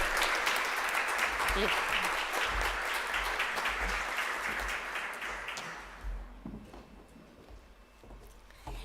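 A crowd applauds steadily at a conference in Chile with dense clapping that gradually fades toward the end, with a voice speaking faintly beneath it.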